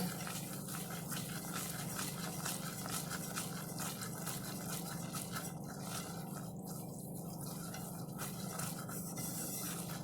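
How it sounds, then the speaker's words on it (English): A whisk works a butter and flour roux in a pan for smoked gouda mac and cheese, giving a continuous close scratchy swishing that runs evenly and alone throughout. "And you're just going to keep whisking."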